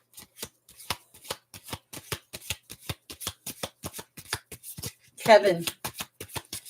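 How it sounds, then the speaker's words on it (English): Tarot cards shuffled by hand during a reading, a steady run of crisp riffling snaps repeating about three or four times a second, close and clear, with a brief spoken voice near the end. "I'll shuffle while I'm waiting"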